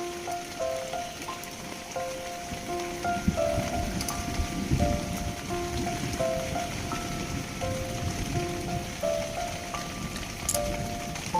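Steady rain falls outdoors across the whole stretch, a dense even patter on surfaces with no speech over it, while faint tonal beeps or music sit quietly in the background.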